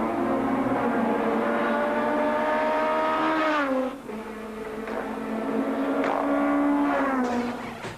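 A BMW rally car pulls away from the start line on a rally stage, its engine droning and rising in pitch through the gears. The car is loud and fairly close, with a brief dip before the revs climb again.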